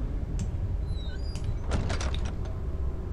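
A door opens in the horror game Amnesia: The Dark Descent with a short creaking, scraping slide over a steady low ambient rumble.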